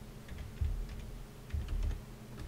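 Typing code on a computer keyboard, quick soft key clicks in short irregular bursts, close up with no talk.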